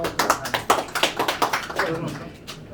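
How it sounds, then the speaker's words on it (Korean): A small audience at a year-end tech seminar claps, a short burst of distinct individual claps in an uneven rhythm that thins out and fades within a few seconds. "박수"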